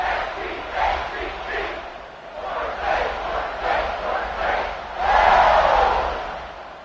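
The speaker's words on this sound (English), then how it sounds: "this crowd is buzzing after that last score" A football stadium crowd at a Virginia game roars and buzzes in rolling waves after a score, swelling into a louder cheer near the end, with faint talk mixed into the din.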